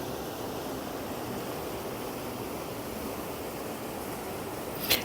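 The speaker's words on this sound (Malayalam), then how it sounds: "അങ്ങനെ നമ്മൾ കടലിൻ്റെ തീരത്ത് എത്തിയിരിക്കുകയാണ്." Sea waves wash onto the shore at Kolavi Palam beach in Kerala, a continuous broad rushing roar at moderate distance with no voices and a brief louder surge right at the end.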